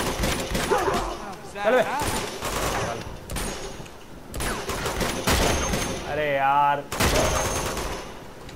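Rapid gunfire bursts from the Uncharted 2: Among Thieves video game during a firefight, loud and repeated under frequent excited talk from a player, with brief pauses between volleys.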